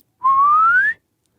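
A single whistled note glides smoothly upward for under a second, a person imitating a slide whistle, clear and close with silence on either side.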